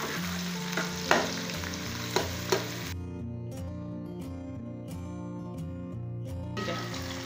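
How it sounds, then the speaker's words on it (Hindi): Onions and spices fry in a pan with a steady, close sizzle, broken by a few sharp utensil knocks and scrapes early on, then settling into a quieter hiss. "प्याज को 2-3 मिनट फ्राई करने के बाद हम बाकी मसाला डालते हैं।"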